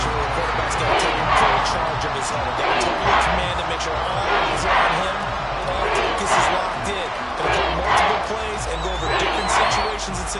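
A stadium crowd roars steadily in Madden 24, a pro football video game. A continuous wall of cheering sits under an announcer's ongoing commentary.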